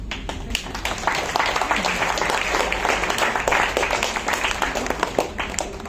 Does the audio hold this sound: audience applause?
yes